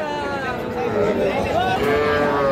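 Bull calves low and moo close by at a busy cattle market, several overlapping calls rising over steady crowd chatter and people talking.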